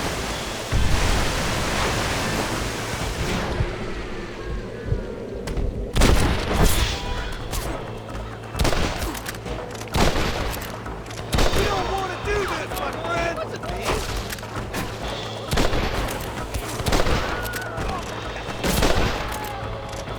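Gunfire in the video game Red Dead Redemption rings out in loud scattered shots and rapid bursts with booming impacts, alongside dialogue and a noisy in-game backdrop.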